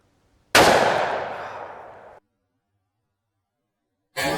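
A single loud gunshot from a Winchester Model 94 lever-action rifle in .357 Magnum firing Hornady 158 grain XTP bullets, a sharp crack decaying over about a second and a half, followed by silence and the start of another sharp sound.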